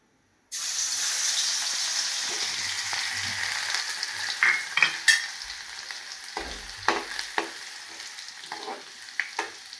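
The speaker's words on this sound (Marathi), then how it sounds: "सर्वात आधी तेल गरम झाल्यानंतर आपल्याला लसूण टाकून घ्यायचं आहे" Garlic sizzles and fries steadily in hot oil, a constant bright crackle with occasional sharper pops and stirring clinks close by, no voices.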